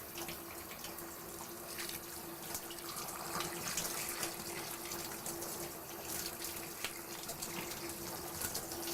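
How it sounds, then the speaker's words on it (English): Running water streams steadily over a special-needs dog being rinsed during a bath, a continuous close hiss and splash lasting throughout with no talk. "I'm going to put my hand up here behind the eyes and shush the water back."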